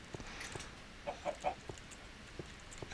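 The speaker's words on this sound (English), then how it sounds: "There's another chicken." Chickens give soft, faint clucks, a short cluster of quick notes in the middle against a quiet outdoor background.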